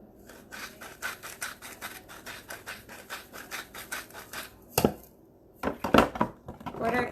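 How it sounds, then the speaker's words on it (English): A pepper mill and a salt grinder give a rapid run of close, rhythmic rasping clicks, then a pause and a few louder, harsher bursts of grinding, with no talking. "I did bring up my pepper mill and my salt grinder"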